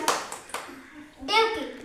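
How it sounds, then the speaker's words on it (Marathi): Children clap in a short burst in an anganwadi classroom, a few sharp claps near and fairly loud, followed by a voice speaking. "जोरात टाळ्या वाजवा"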